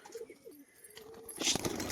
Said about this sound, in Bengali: আজকে সাদা ঝামুরের মধ্যে কিছু পায়রা কোয়ালিটি দেখাবো